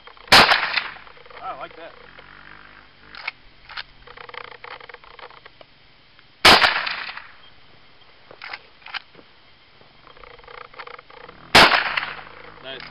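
A 30-30 rifle fires three loud, sharp gunshots spaced several seconds apart outdoors, each with a quick echoing tail, while someone speaks briefly and other voices chatter quietly in between.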